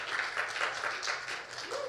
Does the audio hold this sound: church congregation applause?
yes